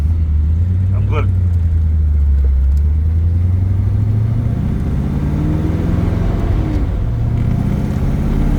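A 1971 Corvette Stingray with a big-block engine rumbles loudly and pulls through its gears, deep engine drone rising and shifting close by, with brief talk in the car.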